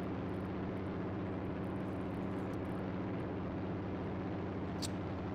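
A Battlefield 5 propeller fighter plane's engine drones steadily throughout, a dense, even rumble with no break and one brief high whoosh near the end.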